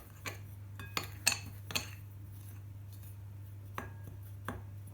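Plain flour and baking powder are stirred together in a bowl for a coconut cake, heard as a handful of sharp utensil clinks and taps against the bowl over a quiet background hum.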